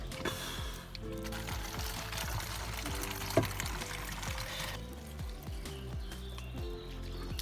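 Water pours steadily while being collected from a small spring well beside a river, with a continuous splashing trickle running throughout at close range.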